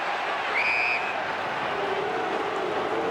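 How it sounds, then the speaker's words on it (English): Stadium crowd at an AFL match between Carlton and Fremantle, a steady broad roar of cheering voices filling the ground, swelling slightly, with a commentator's voice faintly over it. "Crowd finding voice again."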